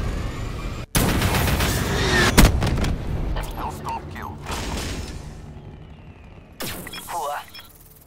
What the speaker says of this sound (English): Requesting Hellstorm missile.